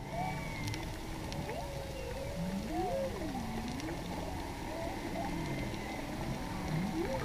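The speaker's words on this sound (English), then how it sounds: "I want you guys to note the whale noises" Whale calls captured underwater near the sea bottom off a Hawaiian beach: long, sweeping, wavering moans and squeals rise and fall over a constant watery hiss, continuing throughout without talk.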